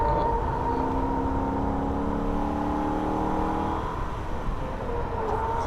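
A Holden VF Ute's engine revs hard on the Nürburgring, a steady loud drone of rising and falling harmonics as the car accelerates through the gears, with no talk.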